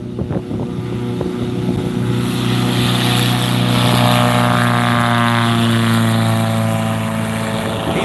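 A World War I replica aircraft powered by a Volkswagen engine takes off, its propeller drone swelling into a loud, steady, close roar with strong harmonic tones that hold for several seconds.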